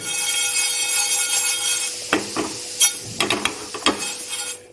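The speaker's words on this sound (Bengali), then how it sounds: "এরপর আমি সেটাকে ভালোভাবে ভেজে নেব" Spices dry-roasting in a pan on a gas stove, a steady dry hiss with scattered scraping and tapping of stirring growing more frequent toward the end.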